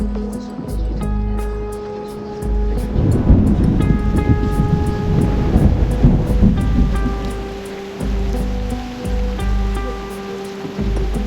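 Rain and a rumbling thunderstorm in the video game Reverse: 1999, a continuous wash of rain with deep rolling rumbles under a steady musical drone and soft chime-like accents, no talking.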